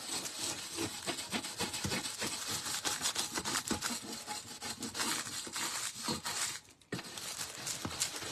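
Metallic foil is scrubbed off a plastic sheet for a silver tray craft: close, rapid rubbing and crinkling strokes in a steady rhythm, briefly pausing near the end.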